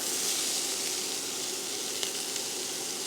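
Chopped onions sauté in warm vegetable oil in a pan, giving a steady, close, even sizzle with a faint bubbling crackle and no voices.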